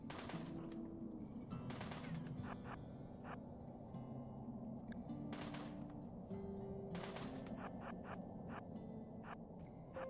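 Colonists firing guns during a RimWorld battle, with bursts of rapid sharp shots and scattered single cracks repeating over a steady background, no voices.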